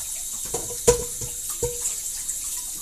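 Running tap water rinses out a pot in a kitchen sink, a steady close splash broken by several hard clanks and knocks of the pot against the basin.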